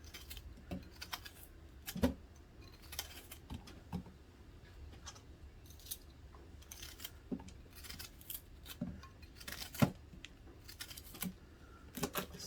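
Produce tips snipped off for juicing: sharp, close cutting clicks and snaps repeating at an irregular pace over a quiet background.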